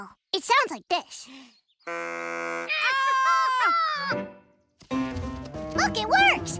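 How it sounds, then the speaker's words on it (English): Cartoon scene with a homemade deer call blown at camp, giving a buzzy honking tone held for a few seconds, surrounded by animated character voices and excited chatter. "A deer call. It sounds like this."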